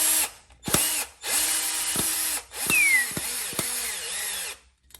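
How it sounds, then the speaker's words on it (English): Power drill boring a pocket hole through a Kreg 520PRO jig into a wooden workpiece, several loud whining bursts of a few seconds each, separated by brief pauses and sharp stops, close by with no voices. "then it'll drill into it"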